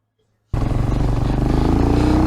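A Magician 250 motorcycle fires up and pulls away, its engine a loud, steady pulsing drone that rises gradually in pitch as it accelerates, close and continuous with no talk over it.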